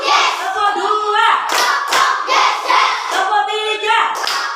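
A class of standing schoolchildren claps along in a clap-count classroom ice-breaker, with sharp clap bursts mixed with loud, chanting young voices at close range.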